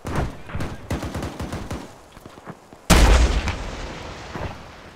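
Shoulder-fired rocket launcher fired outdoors during a military operation: one loud, close blast with a long rumbling decay, after scattered shouts and voices.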